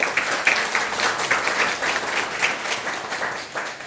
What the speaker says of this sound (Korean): 우리 부활하신 주님께 영광과 찬송의 박수 드립시다